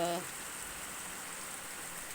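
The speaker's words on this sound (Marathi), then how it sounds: "सगळीकडे नुसतं पाणीच पाणी केलेलं आहे बघा पाऊसच पाऊस आहे खूप जबरदस्त पाऊस आहे" A steady, soft hiss of falling rain continues throughout, after a brief voice fragment at the very start.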